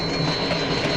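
Train rumble from a film's ghost train action sequence, a dense continuous rolling roar with a steady high whine on top, loud and unbroken for the whole second.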